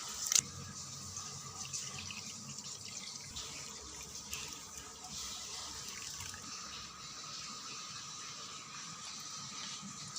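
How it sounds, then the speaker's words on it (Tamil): Water runs steadily from a tap into a vessel as rice is washed in a home kitchen, a continuous close splashing flow with small drips and no talking. "இங்கே பாருங்கள், தண்ணி ஊற்றி நம்ம எப்படி நம்ம சமையலுக்கு நல்லா வாஷ் பண்ணுவோமோ அது மாதிரி நல்லா கழுவிடுவோம்."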